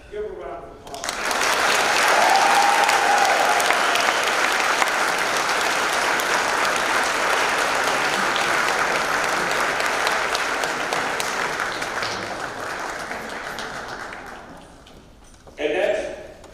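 Sustained audience applause at a senior awards ceremony, a dense and loud wash of clapping that swells quickly, holds steady for many seconds, then fades, with a brief burst of voices near the end.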